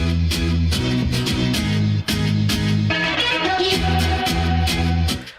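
An alternate mix of a song: a dense, loud pop track with punchy bass pulses, bright percussion and layered synths, a brief dropout near the two-second mark.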